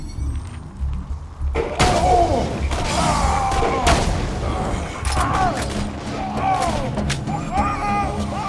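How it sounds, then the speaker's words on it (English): Enemy cannon fire in the video game Borderlands 2, booming blasts amid dense gunfire and game effects over roughly eight seconds, loud and close, with mechanical clanks and layered explosions throughout. "Looks like he has a cannon."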